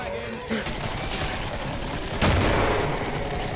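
Dense, sustained gunfire in the video game Killing Floor, a continuous barrage with one sharper blast midway, loud and close with voices mixed into the din.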